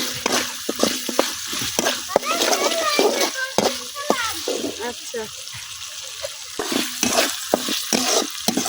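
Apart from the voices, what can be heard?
ginger and garlic paste frying in a pan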